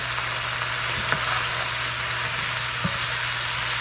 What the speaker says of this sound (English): Let's stir fry that real good.